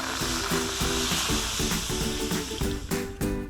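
Nipa palm sap sizzles and hisses steadily in a hot wok, a continuous frying crackle with some clinking.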